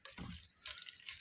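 Half a cup of water poured into a pot of vegetable biryani gravy, a brief faint splashing pour lasting about a second with no talking.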